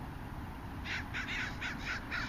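Several harsh crow caws ring out in quick succession, moderately close, over a steady outdoor hum with no talking.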